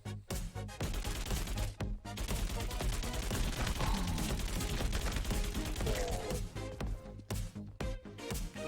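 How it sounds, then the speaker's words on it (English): Enemy Big Daddy in the Freakout: Calamity TV Show video game firing bullets, dense rapid bursts of gunfire in long continuous volleys with brief gaps, loud and close. "This one does run at you, and it does fire back."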